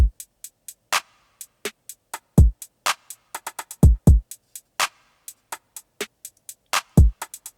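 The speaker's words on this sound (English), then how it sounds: "we have to have some sort of hi-hat, so that sounds like this." A hi-hat pattern programmed in Studio One 4 ticks in quick, crisp bursts, some notes rolled rapidly, over deep kick thumps in a steady beat with no voices.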